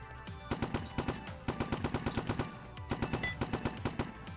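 Automatic gunfire in the online shooter War Brokers during a battle royale match, rapid bursts of sharp shots in quick rhythmic volleys separated by short gaps, loud and close with no talking.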